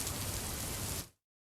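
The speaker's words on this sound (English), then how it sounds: "I'll wait for the rain to stop." Rain sound effect played while building a game: steady, loud, close hiss of falling rain that cuts off abruptly near the end, leaving silence.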